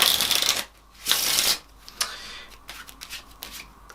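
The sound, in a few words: riffle shuffle of Black Mint playing cards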